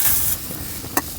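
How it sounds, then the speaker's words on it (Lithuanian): Pork cracklings sizzle and spit in a pan set over an open campfire in a forest, a steady close frying hiss with a few sharp pops. "pasikepinti spirgučius"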